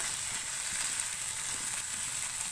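Capsicum sizzling and frying with chicken in a pan over a medium flame, a steady close hiss that continues evenly throughout with no talking.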